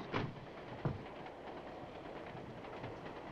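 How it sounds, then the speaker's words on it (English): A moving train rolls along in a faint, steady rumble, with a couple of sharper clunks of railroad cars early on and no one speaking. "The train hasn't stopped."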